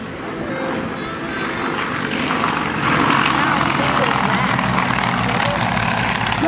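Yak-18 propeller trainers, 285 horsepower, flying a two-ship formation pass at an airshow in St. Augustine; a steady, loud engine drone swells slightly as they pass, with crowd voices mixed in.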